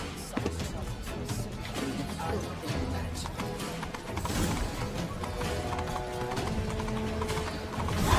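Horse hooves clip-clopping in a steady galloping rhythm while riding in The Witcher 3 Blood and Wine, loud and close under game music and ambient sound, with an occasional whinny.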